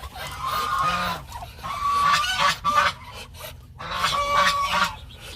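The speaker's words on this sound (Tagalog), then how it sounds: "Ito yung ating pure Indonesian Muscovy duck na Drake." Indonesian Muscovy ducks, including a pure Indonesian drake, make repeated raspy, breathy hissing calls at close range in a backyard farm, in short bursts with brief pauses between.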